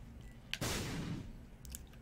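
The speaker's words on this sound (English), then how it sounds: "Let's put a bomb down here." A bomb explodes in Binding of Isaac Rebirth, a single sudden burst that decays over about half a second, preceded by a faint click and followed by quiet game ambience.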